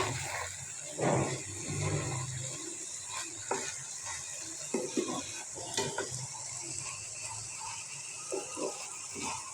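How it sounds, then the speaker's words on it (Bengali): A bean and potato bhaji with bottle-gourd peel stirred in a pan, close scraping and clinking of the spatula over a light sizzle, irregular strokes with no voices. "এখন আমি আমার নাড়াচাড়া দিয়ে দেবো ভাজিটা"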